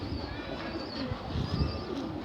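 A female pigeon with purple feet, kept for rooftop pigeon flying, gives soft, low, repeated coos against a steady background hiss, with no one talking.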